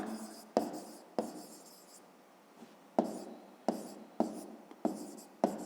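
A pen scratches across paper up close in short strokes, a series of quiet scratchy bursts with brief pauses between them.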